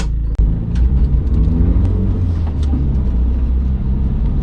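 A turbocharged car with no blow-off valve fitted is driven off, its engine rumbling low and loud from inside the cabin as it pulls away steadily, with no voices.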